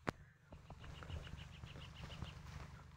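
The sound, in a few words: wild birds calling in a forest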